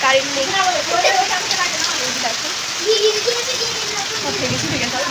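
Rain falls in a steady outdoor hiss, easing during a windy spell, while someone talks over it close by and other voices sound in the background.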